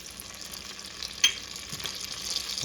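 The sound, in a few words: butter melting in olive oil in Dutch oven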